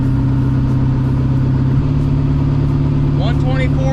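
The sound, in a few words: car engine running as driving starts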